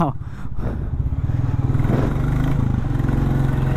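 A Royal Enfield Classic motorcycle's single-cylinder engine thumps close by, revving up from idle into a steady, rapid pulsing beat, with a voice talking over it on a Koramangala road.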